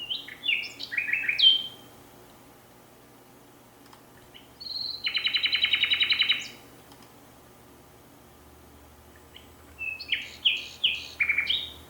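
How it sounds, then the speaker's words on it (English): Common nightingale song played back from a recording: bursts of varied chirps and whistles, a sustained rapid trilling phrase in the middle, then another run of sharp notes, clear and close with quiet gaps between. "Common nightingale."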